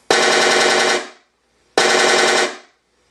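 A Benedini sound module for a Tamiya Battle System toy tank plays a machine gun effect twice: two loud, rapid bursts of about a second each, separated by a short silence, with no talking.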